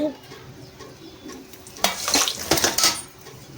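A spoon scraping and clanking in a pan while brinjal and dried fish curry is stirred thick, with soft sizzling underneath and a burst of louder metallic scrapes toward the end.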